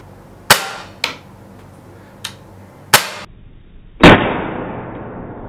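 A CZ 75 P-07 Duty CO2 blowback pistol fires five sharp, close, loud cracks at irregular intervals, each with a short metallic slide snap, the last shot ringing out with a longer decaying tail.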